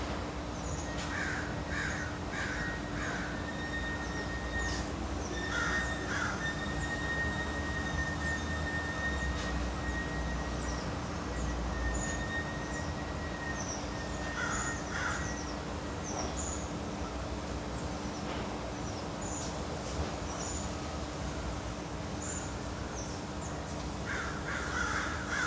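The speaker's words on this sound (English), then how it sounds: "The crows were really loud when I first came out here." Crows caw repeatedly in short bursts at a moderate distance, scattered across a steady outdoor background hum.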